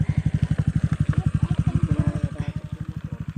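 A motorcycle engine idles and chugs with a fast, even pulsing beat, close and loud, sputtering slightly unevenly toward the end, on a rural farm path in Apayao.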